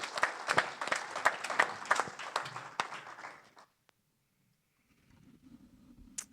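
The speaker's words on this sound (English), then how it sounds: "They deserve a big round of applause." Sharp, distinct claps from a small group at a board of directors open meeting ring out for about three seconds, then fade to near silence before faint room noise returns.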